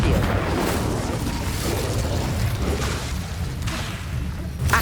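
Incendio fire spell cast in Hogwarts Legacy: a loud, roaring burst of fiery rumble with whooshing flares, sustained for several seconds amid other booming spell effects.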